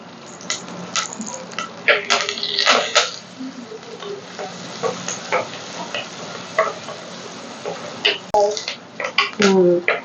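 Onions and curry leaves dropped into hot oil for a home-cooked seela fish curry, crackling and sizzling while a spoon scrapes and stirs against the pan in irregular bursts, a voice talking over the cooking throughout.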